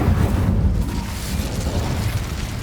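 A fiery Incendio spell blast cast in Hogwarts Legacy, a loud, sustained roaring whoosh with deep rumbling boom that holds steady for a few seconds without fading.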